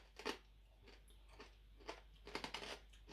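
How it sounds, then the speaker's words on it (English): Crunchy homemade pork scratchings, shrunken and without a fat layer underneath, chewed close up: several separate crisp crunching bites, a few at first and then a quicker cluster near the end, with no talking. "you can probably hear the crunch because there wasn't a layer of fat underneath"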